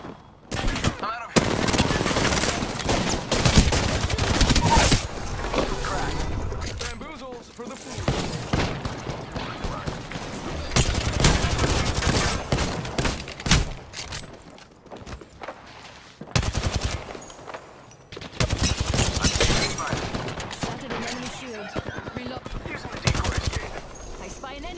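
Bursts of rapid automatic gunfire in a team battle royale match of Apex Legends, loud and close, coming in long volleys separated by brief pauses, with scattered single shots and footsteps between bursts.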